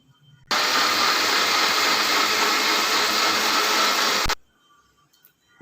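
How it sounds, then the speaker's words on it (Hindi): A blender whirs steadily as it purées soft peaches into a smooth base for summer peach lemonade, a loud continuous motor roar lasting about four seconds before cutting off abruptly into near silence. "तो चलिए अब हम इसको ब्लेंड करते हैं।"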